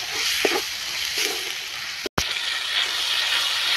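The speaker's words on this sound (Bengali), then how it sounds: "আমি মশলাটাকে কষিয়ে নেব।" Spice paste with turmeric frying in oil for chatpati, a loud steady hiss and sizzle close by, with a few soft stirring knocks and a brief cut in the middle.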